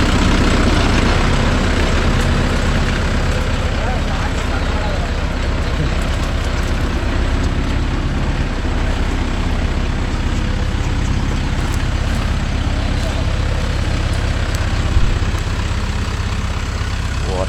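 A Mahindra Yuvo Tech Plus 585 4WD shuttle-gear tractor runs with a steady low diesel rumble that drones on without a break, loud and close, with a few faint voices mixed in.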